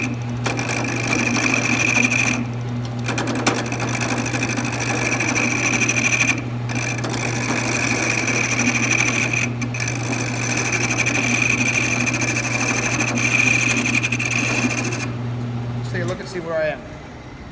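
A wood lathe spins a small knob blank while a tool takes the corners off, giving a steady droning whir with a rough scraping texture that runs loud and continuous, then stops near the end.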